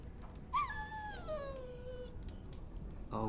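A dog in the Dragon Age: Origins video game lets out a single high, falling whimper that trails off into a faint whine, heard alone over a quiet background hum.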